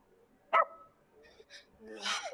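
A small dog in a drama episode gives a sharp bark, then a few softer yips and whines, set among other faint scene noises.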